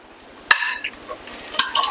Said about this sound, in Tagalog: Just add a little bit of oil. Tapos, gisahin na natin ang ating bawang.